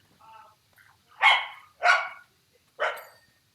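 An excited puppy barks three times in a loose, evenly spaced series, with a couple of softer yips before the barks. The barks are close and clear, and no one talks over them.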